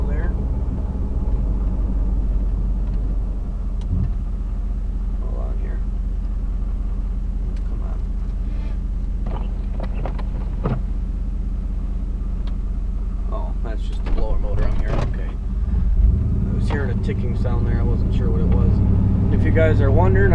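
A 1995 GMC 2500 Sierra pickup rumbles along plowing about six inches of snow, its low engine drone steady throughout, with scattered clunks and knocks and a louder scraping surge near the end.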